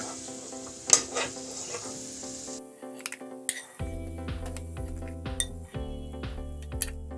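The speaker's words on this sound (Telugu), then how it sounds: "కొన్ని కిస్మిస్లు, కొన్ని బాదం పప్పులు వేసుకొని వేయించుకుంటాను." Raisins and almonds frying in ghee in a pan, with steady sizzling and a few clinks and stirring scrapes of a utensil against the metal, close and alone without speech.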